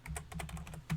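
A computer keyboard is typed on in a quick run of about ten soft, close keystrokes, fairly quiet, with no talk.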